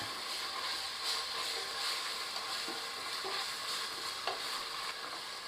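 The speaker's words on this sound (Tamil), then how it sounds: "ஒரு மேஜை கரண்டி இஞ்சி பூண்டு விழுது இதை ஆட் பண்ணி நல்லா கலந்து விட்டுக்கிறேன்" A spoonful of ginger garlic paste is stirred into masala frying for Erode-style chicken biryani in a pressure cooker. A steady, soft sizzle runs throughout, with faint scrapes and clicks from the spoon against the pan.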